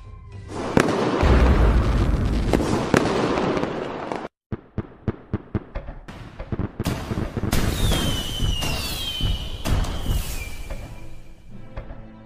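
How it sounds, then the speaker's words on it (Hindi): Firecrackers burst in a dense loud crackle, then a pause followed by a rapid string of sharp separate pops, with fizzing whistles and more crackling after. "रात होते ही दादी परिवार उत्साह से पटाखे जलाता है।"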